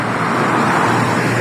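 Steady roar of cars passing on a busy expressway road near the Museum Hill exit, a continuous loud traffic wash with no distinct breaks.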